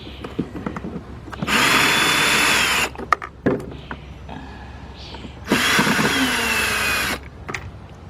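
Power drill backing screws out of a Ford Focus dashboard during AC evaporator core replacement: two close, loud whirring bursts of two to three seconds each, with clicks and handling noise between.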